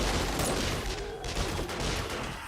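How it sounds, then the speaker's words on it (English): Guns firing in 7 Days to Die during a horde attack on a base, a dense continuous barrage of rapid shots layered into a loud, steady roar. "shoot him back down the stairs with bullets"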